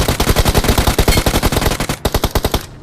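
Rapid automatic gunfire in a shooting video game, a dense loud burst of evenly spaced shots that breaks briefly near the end, then resumes for a few more rounds before cutting off.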